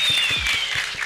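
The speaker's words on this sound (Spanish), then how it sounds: "Por favor, un aplauso para los artistas." A press conference audience gives a short burst of applause for hip hop artists, many hands clapping together in a room, steady and moderately loud.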